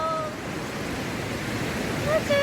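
Sea waves wash in at Suryalanka beach as a soft, continuous, hissing surf, fairly faint and unbroken through the short stretch.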